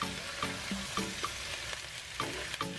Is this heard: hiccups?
no